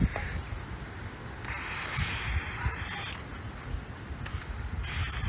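Aerosol spray can hissing in bursts as clear coat is sprayed onto a 1941 Western Royal radio cabinet, close by, with short pauses between sprays and steady background noise.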